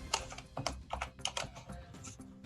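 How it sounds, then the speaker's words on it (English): Fast, furious typing on a computer keyboard, a dense run of sharp key clicks in quick uneven bursts, close and fairly loud, with no talking. "Furious typing."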